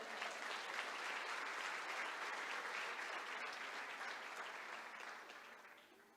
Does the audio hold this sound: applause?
yes